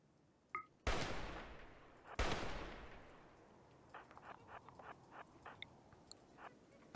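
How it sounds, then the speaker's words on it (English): RimWorld gunfire: two heavy, booming shots ring out about a second apart, each with a long decaying tail, followed by a quicker scattering of lighter, sharper shots at lower volume. "these guys are gonna get pissed when I open fire on them."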